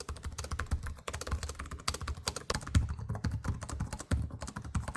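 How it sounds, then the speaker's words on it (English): Rapid typing on an Asus TUF A16 or Zephyrus G16 laptop keyboard, a dense stream of close, crisp key clicks with brief pauses, no talking. "here's what the keyboards sound like in comparison."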